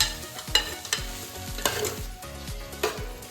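Vegetables for restaurant-style egg rice are stir-fried in a pan, a soft sizzle broken by repeated spatula scrapes and knocks at a steady stirring rhythm, close and with no voices, over a faint tonal hum.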